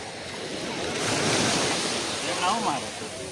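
Sea waves roll onto a beach at Surat, swelling into a broad rushing surge with some wind buffeting the microphone, and a voice briefly sounds near the end.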